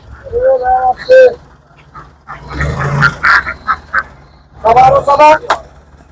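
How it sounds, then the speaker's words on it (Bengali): Ducks on a Bangladeshi duck farm give several loud, nasal honking quacks in short bursts, close by, with a person talking in between and over them. "এই যে আমি একটু আপনাদের দেখাই হাঁস কত সুন্দর"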